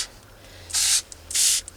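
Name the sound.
spraying plants with a sprayer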